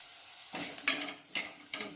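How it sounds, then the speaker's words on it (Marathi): Bitter gourd with grated coconut stirred in a hot pan, giving three or four scraping strokes over a soft frying sizzle, close and clear with no talking. "परत अशी ढवळून घ्यायची"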